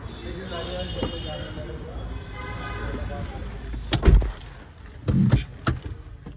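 Front seat of a Honda Amaze VX CVT petrol sedan being adjusted inside the cabin: low background hum, then a few sharp mechanical clunks and knocks from the seat runners near the end, close by.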